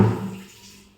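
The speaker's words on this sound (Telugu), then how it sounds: "కొంచెం నీళ్ళు పోసుకుందాం." A short splash of water poured over a chilli chicken marinade of ginger-garlic paste, loud at first and quickly dying away to quiet within a second.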